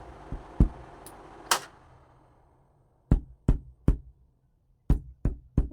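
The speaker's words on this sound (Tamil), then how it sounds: "நான் ஃப்ரேம் இப்படி தட்டும்பொழுது ஒரு சத்தம் வரும்" An Aari embroidery stand frame with cloth stretched tight is tapped by hand, giving sharp knocking taps, a few scattered early, then quick pairs and triplets of crisp close knocks with short silences between.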